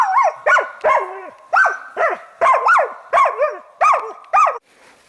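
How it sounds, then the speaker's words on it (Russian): A tied sable-hunting dog in Yakutia barks close and loud, a string of about ten sharp barks in an uneven rhythm, with short pauses between them and a brief quiet at the end. "Вот собаку привязали."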